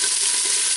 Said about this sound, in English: I've heated some grease in my pan, whatever fat you want to use, and I'm dropping my cubes of beef